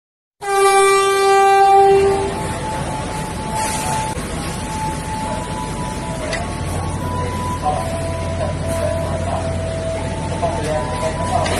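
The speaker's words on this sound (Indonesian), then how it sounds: "Kereta yang akan digantikan oleh KRL yang terbarunya sekarang sedang uji coba." An electric commuter train on the Yogyakarta–Solo line sounds a loud horn, then keeps rumbling steadily along the tracks with tonal whines and clatter throughout.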